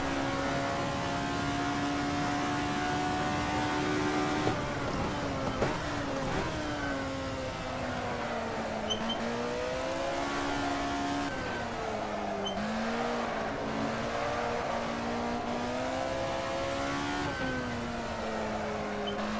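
A historic race car engine drones loud and close throughout, its pitch climbing and falling in repeated revving swells and gear changes during a spring finale race with CMS Historics, with no talking over it.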